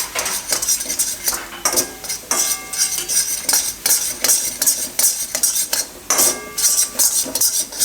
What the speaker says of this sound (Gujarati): એમાં બાજરાનો લોટ થોડો થોડો નાખતા જાઉં અને મિક્સ કરતા જાઉં.